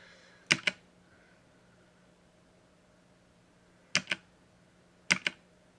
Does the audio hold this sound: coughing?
no